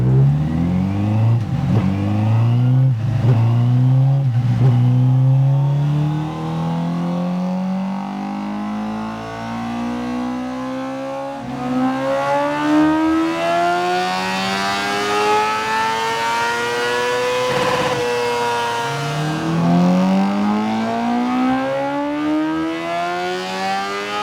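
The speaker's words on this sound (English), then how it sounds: "we're obviously just going to run it up on the dyno, see what the bike's doing" Honda CBR1000RR-R Fireblade sport bike revving on a dyno, engine pitch climbing in long sweeping pulls, dropping back and rising again through several runs, loud and continuous with no voices.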